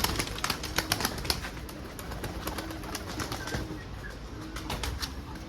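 An Arab-breed pigeon flaps its wings in quick, close bursts, mostly early on, over a steady background hiss, with faint cooing.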